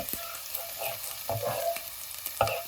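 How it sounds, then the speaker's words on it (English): Chopped garlic and ginger fry in hot oil for chicken Manchurian, giving a steady close sizzle broken by a few sharp clicks and stirring scrapes, with no talking. "Once the oil heats up, I'm going to add in the chopped garlic along with the chopped ginger and give a quick mix."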